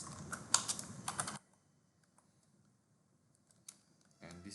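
Computer keyboard typing in quick bursts of close, crisp clicks, then near silence, with another short burst at the end.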